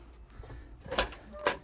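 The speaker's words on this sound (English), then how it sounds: "So I'll get this door open." The cab door of a Kalmar DCG180 40,000 lb diesel forklift is opened, a couple of soft clunks and then two sharp latch-and-hinge knocks close by.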